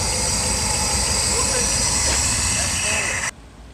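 A 1961 Cadillac limousine engine, just revived after storage, runs loud and close with a steady broadband roar and hiss, then cuts off abruptly near the end.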